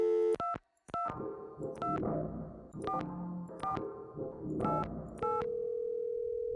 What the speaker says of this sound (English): let's start calling some phone numbers I have